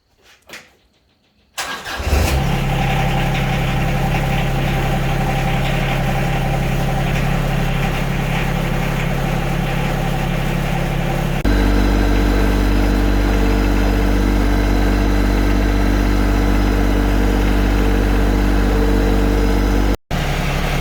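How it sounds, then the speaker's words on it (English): A tractor engine cranks and fires after a moment of quiet, then settles into a loud, steady idle that steps up to a deeper, heavier drone partway through before cutting off abruptly. "I'll go ahead and fire up the tractor again"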